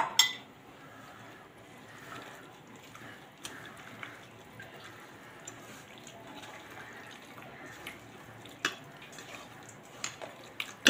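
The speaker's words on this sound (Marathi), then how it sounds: "आता हातानेच हे सगळे जिन्नस आपण एकत्र करून घेऊयात" Chicken, marinade and yogurt are mixed together by hand in a bowl, with soft wet squelches, faint drips and occasional light clinks of the dish.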